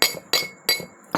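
Clay bowls tapped against each other, giving four crisp, resonant clinks about a third of a second apart, near and clear with nothing else around them.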